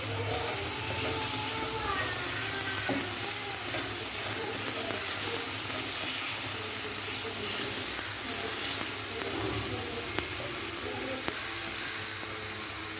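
A masala of coriander powder, chili powder, turmeric, salt and cumin sizzles in a pan for baingan bharta, with a steady, moderately quiet hiss and occasional small pops.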